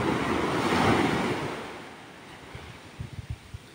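Sea waves wash onto a beach shore in a broad, steady surf roar that swells, then eases, with a few short bumps and splashes near the end; no one speaks.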